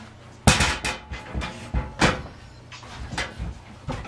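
A household door is opened amid a series of close knocks and thumps, with several sharp wooden bangs and rattles spread unevenly across a few seconds in a quiet room.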